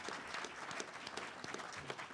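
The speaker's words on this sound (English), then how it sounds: "How about a round of applause for each guy?" Audience at an Illinois Republican governor primary debate applauds the candidates, a steady wash of clapping hands from a crowd indoors, moderately distant and even throughout.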